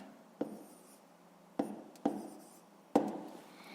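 Pen on paper writing fractions by hand, four distinct scratchy strokes with quiet gaps between them, close and soft in a quiet room.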